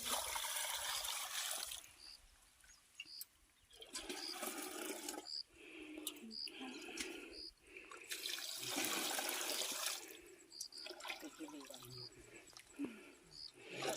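Water poured and splashing into metal pots at a village water source in a tribal forest village, coming in repeated bursts of gushing and trickling as pots are filled one after another, with faint voices around.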